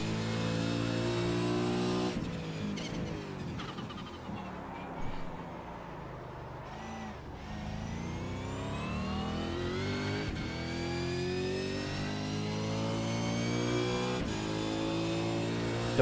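Holden Commodore V8 Supercar engine in the iRacing sim, a loud continuous roar with rising and falling revs through gear changes, steady and close throughout.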